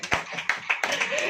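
An audience at a Hindi church sermon by Rev. Rohit Massey claps in short uneven bursts that quickly merge into steady applause, close and moderately loud.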